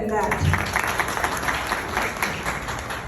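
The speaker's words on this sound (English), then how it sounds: "I think that deserves more applause than that." Audience clapping at a community reception, a short, fairly loud stretch of mixed hand claps from a gathered crowd with a low murmur beneath.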